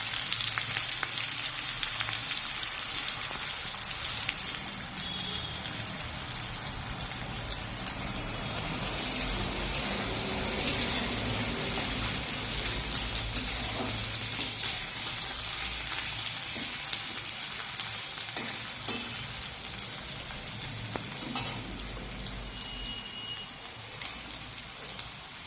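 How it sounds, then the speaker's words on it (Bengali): Bay leaves fry in a pan with a steady, close sizzle that holds evenly throughout, a faint crackle and light spatter running under it, with no voices. "তারপর এটাকে আমরা একটু লাল লাল করে ভেজে নেব।"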